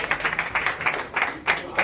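A modest crowd claps at a film meetup celebration in a Raipur hotel, with thin, scattered bursts of applause rising and falling in quick uneven waves, moderately close.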